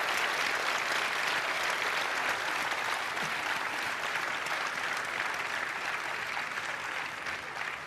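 A studio audience at a Turkish television debate show applauds steadily and evenly, a dense, loud wash of clapping that holds for the whole stretch with only a slight easing near the end.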